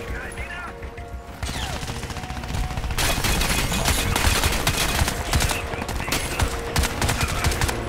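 Rapid bursts of automatic gunfire in Crysis 3, starting sparse and building into sustained, loud rattling volleys over a droning background.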